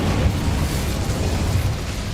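The Incendio fire spell cast in Hogwarts Legacy gives a loud, sustained whooshing roar of flame, a dense burst that stays steady for about two seconds.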